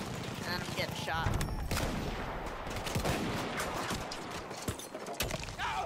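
Rapid video game gunfire in a multiplayer shooter, dense bursts of shots and impacts crowding the whole stretch, loud and close, with a player's voice talking over it at times.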